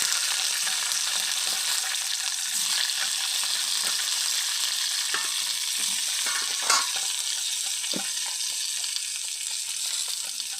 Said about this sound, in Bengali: আর এটা রোস্ট করে নেব এই শিমলা মির্চটা।